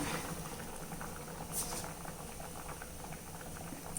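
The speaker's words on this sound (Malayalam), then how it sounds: "ഇനി ഒന്നും കൂടെ അടച്ചു വെച്ചിട്ട് കപ്പ ഫുള്ള് വേവട്ടെ" Tapioca (kappa) boiling in a covered pot, salted part-way through cooking, gives a steady, dense bubbling and simmering that carries on evenly throughout, close by with no talking.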